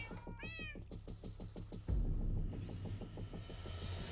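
Cat meowing clearly in close range, a short rising-falling cry followed by a steady rhythmic pulsing background that grows louder partway through, with no talking.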